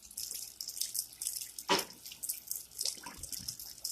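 Water from cooked potatoes poured off into a sink, a soft continuous splash and trickle with a brief louder gush partway through, close and fairly quiet.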